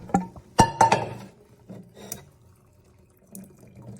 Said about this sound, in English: I got my colander, I got my pot with pasta in it. I'm gonna go ahead and move my hand out of the freaking way and dump this in.